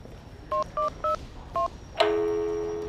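Telephone keypad dialing, four short evenly spaced beep tones followed by a longer sustained ringing tone, clear and close with no talking.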